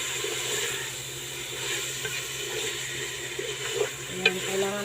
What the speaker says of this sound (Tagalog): kailangan natin siya igisa para mawala yung taba